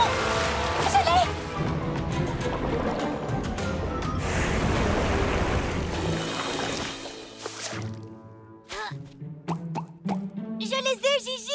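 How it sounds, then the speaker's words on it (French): Water splashes and gushes steadily, like a fountain, stream or flood, in an animated Polly Pocket beach day, with busy plops and washes that fade into scattered clatter and voices near the end. "On dirait une sorte de fontaine ou un ruisseau ou une inondation."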